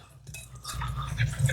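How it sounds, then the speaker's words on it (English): A whisk stirs chocolate glaze for double chocolate scones in a bowl, a soft steady scraping and clinking that builds after a quiet start and continues close by without talk. "what I'm gonna do is take my glaze, just gonna whisk it just slightly again"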